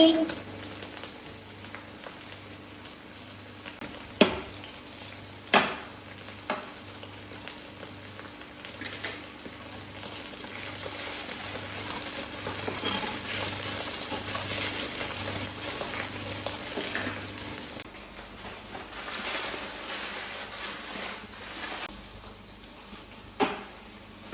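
Potato tawa fry sizzles on a hot griddle with masala, a soft continuous crackle broken by a few sharp knocks of a utensil, with a low hum beneath and a voice talking at times.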